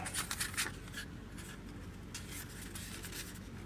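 A sheet of paper folded along a machine-scored line, a few short crisp rustles and creases near the start, then quieter scraping against a low background hum.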